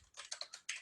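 Quick bursts of typing on a computer keyboard, about five or six close, crisp keystrokes in a short rhythmic run with no voices.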